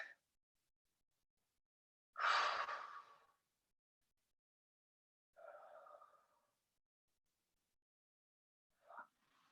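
Several deep breaths during a Pilates rotation exercise, three separate soft exhalations spaced a few seconds apart in a quiet room, the first loudest, the last brief and faint.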